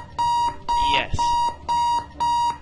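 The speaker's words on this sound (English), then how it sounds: "My alarm is going off in my ear in-game." An in-game alarm in a bomb-defusal video game beeps in four steady, evenly spaced tones, loud and close, while a person talks over the second beep.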